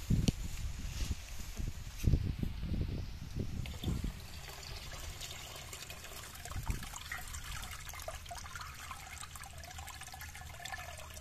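Water runs and trickles steadily into a container, with some louder splashing bursts early on before settling into an even flow.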